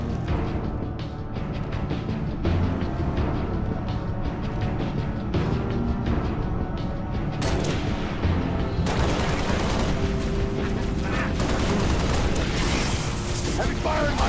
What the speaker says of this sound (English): Heavy fire in my position.